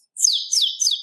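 A person whistles a close imitation of bird calls: three quick, clear chirps in a row, each sliding downward in pitch, loud and near with nothing else behind them.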